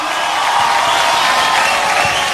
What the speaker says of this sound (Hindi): जीत के लिए तालियां